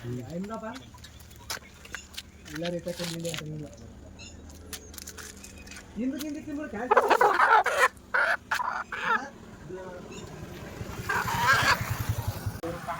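Chickens cluck and squawk in irregular bursts at a village poultry sale, some calls close and loud, mixed with people talking and a passing motorcycle.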